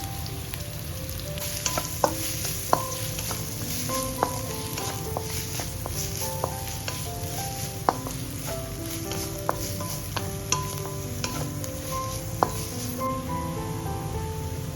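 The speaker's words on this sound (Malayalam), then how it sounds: "ഇനി ഇതിലേക്ക് ഒരു വലിയ സവാള ചെറുതായി അരിഞ്ഞതുകൂടെ ചേർത്ത് നന്നായി ഒന്ന് വയറ്റിയെടുക്കാം" Finely chopped large onion sautéing with curry leaves in a pan, a steady close sizzle marked by scattered sharp clicks and scrapes of stirring throughout.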